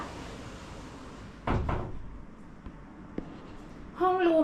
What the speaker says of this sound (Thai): ขอปิดประตูก่อนนะคะ